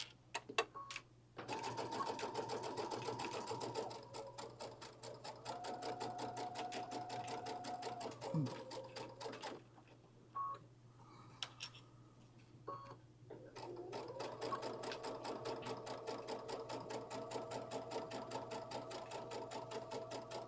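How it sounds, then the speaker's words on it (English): Sewing machine stitching fabric in long steady runs with a rapid mechanical whir, pausing briefly in the middle before sewing resumes; close and clear, without talking. "And then we'll just start to sew."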